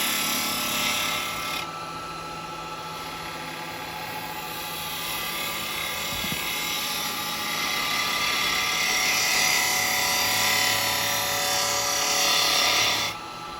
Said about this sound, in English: Now I'm going to go back to my spindle gouge for a minute